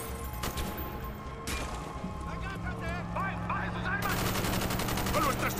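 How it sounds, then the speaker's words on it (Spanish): Gunfire from the video game Call of Duty Black Ops, with bursts of shots and crackling impacts amid game effects, under excited talk from a player. "Ha pegado dos tiros como si lo hubiera pegado en verdad"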